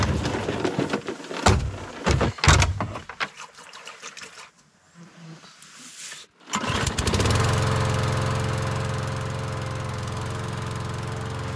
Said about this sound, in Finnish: kun etelän vetelä pääsee ruohonleikkurin kanssa sähläämään